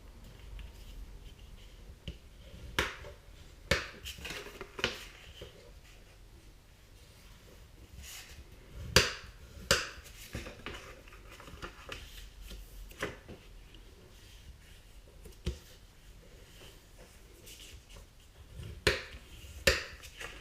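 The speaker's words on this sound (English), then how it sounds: "so I can just set about to fold and crease those next" Card stock being folded and creased into an A5 milk carton gift box, giving scattered sharp snaps and crisp creasing clicks at close range over a quiet background, with no talking.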